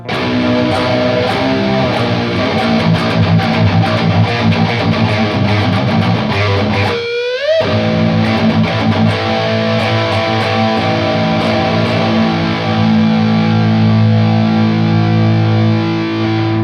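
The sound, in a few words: distorted electric guitar power chord, whole step down tuning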